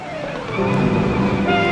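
A 1940s car pulling away from a street, engine revving up and rising in pitch over under two seconds, fairly close and loud with no talk.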